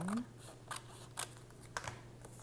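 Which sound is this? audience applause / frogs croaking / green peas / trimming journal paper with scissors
trimming journal paper with scissors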